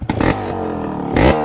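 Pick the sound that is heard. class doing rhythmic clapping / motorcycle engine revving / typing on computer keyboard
motorcycle engine revving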